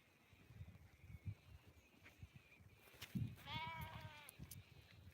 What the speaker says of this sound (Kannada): ಕುರಿ ಸಾಗಾಣಿಕೆ ಮಾಡ್ತಾಯಿದ್ದೀನಿ